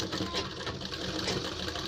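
Close, continuous whir of a sewing machine tacking fabric for a ladies' full-collar kurta, steady and unbroken throughout.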